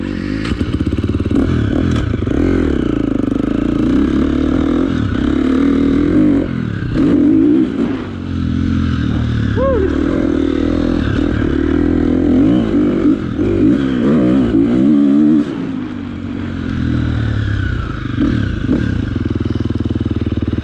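A motorcycle engine on a race track runs close and loud, revving up and down repeatedly with rattling, clattering mechanical noise throughout.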